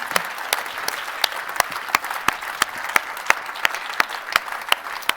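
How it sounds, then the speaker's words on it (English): An audience at a women leaders' forum in Reykjavík applauds the team and volunteers, a broad wash of clapping punctuated by sharp, closer individual claps at a steady, almost rhythmic pace. "give them a round of applause"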